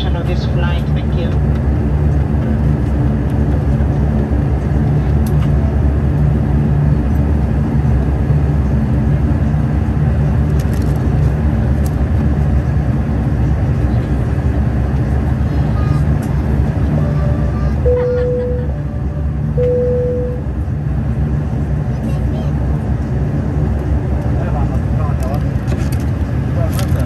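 Airplane cabin noise on a Lamu to Mombasa flight at takeoff, a loud continuous engine roar and rumble filling the cabin, with a couple of brief chime-like tones near the end.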